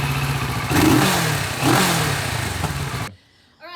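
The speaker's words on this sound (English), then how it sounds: "Sounds like your average parallel twin." A parallel twin motorcycle engine revs up loudly twice with a rough, throaty rasp, then cuts off abruptly into near silence before a faint sound returns at the end.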